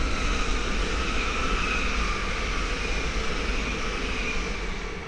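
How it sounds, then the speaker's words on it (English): A Great Northern Class 387 electric train passes on the East Coast Main Line at Great Wymondley, a loud sustained rushing roar with a steady whine that slowly eases toward the end. "the next train to pass by will be the Great Northern 387s from Peterborough to London King's Cross"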